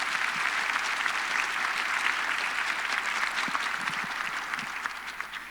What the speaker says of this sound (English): And a big round of applause for Liz and the wider co-develop team.